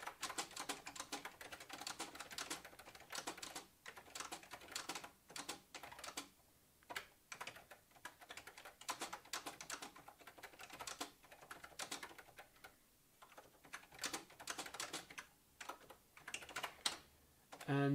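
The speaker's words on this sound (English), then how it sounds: "For just typing, it will keep up and it's nice and brisk." Brisk typing on the snappy keyboard of a dedicated word processor machine: continuous rapid key clatter with irregular rhythm and brief pauses, close and steady throughout.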